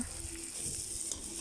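Red bell pepper and carrot are stirred through a hot pan while cooking bam-e, with a steady close sizzle and soft scraping from the utensil and no voices.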